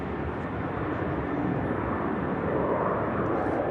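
A jet aircraft on an airport runway gives off a continuous broadband roar, moderately distant and steady, swelling slightly toward the end.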